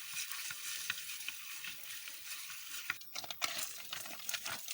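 Sardines frying in a pan with torn pieces of banana leaf, stirred so a bright sizzle runs continuously under repeated scraping and clinking of the utensil, louder toward the end.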